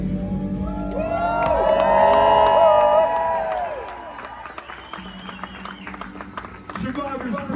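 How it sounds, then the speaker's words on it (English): A large crowd cheers, whoops and applauds for blood cancer survivors holding lanterns at a Light the Night walk opening ceremony in Nashville, Tennessee. The cheering swells loudly, then fades to scattered claps and shouts. "Survivors, we salute and raise a cheer to you."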